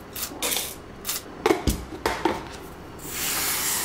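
A Bialetti coffee scoop digs into coffee beans with quick, close rattling scrapes and clinks in a brief uneven series, followed by a soft, steady hiss, with no talk.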